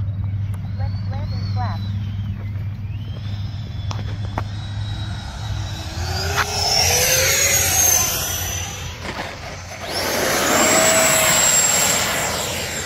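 An FMS F-86 80mm electric ducted-fan model jet whines past during touch-and-go landing practice, its pitch sweeping up and down as it passes near and then away, with someone talking throughout.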